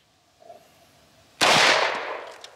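A single loud gunshot from a CZ Scorpion Evo cracks at an outdoor range after a quiet moment and tails off in a long echo.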